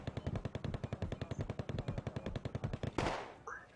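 Machine gun fire from the video game Wargame AirLand Battle rattles in a rapid, steady stream of evenly spaced shots for about three seconds, ending with a louder blast and a fading whoosh.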